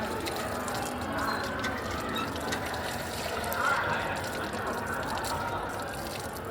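Water runs steadily from an outdoor drinking tap at a school, a continuous broadband splashing hiss that stays fairly even throughout, with faint background activity.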